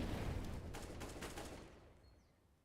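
A couple of grenades go off in CS:GO during a tournament overtime round. Sharp, dense explosive bursts crowd the first second and a half, then a rumbling tail fades away.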